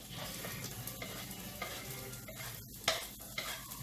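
Garlic and onion fry for beef caldereta, giving a steady close sizzle with a few stirring clicks and taps from the pan. No voices are heard.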